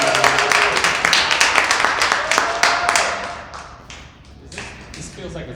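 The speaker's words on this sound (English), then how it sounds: "I guess we can do one more round of applause for" Audience applause at a relationship advice Q&A with pastors: close, energetic clapping with distinct individual claps, tapering briefly near the end before picking back up.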